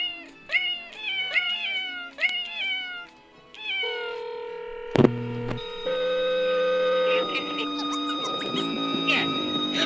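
A cat gives a quick run of several rising meows close by, then falls quiet as sustained electronic tones and beeps take over and build into a busier synthetic texture.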